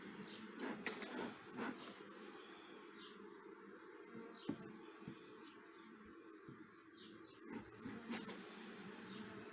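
Honeybees buzz steadily around an open backyard beehive during a hive inspection, a continuous hum close by with brief louder passes as individual bees fly near.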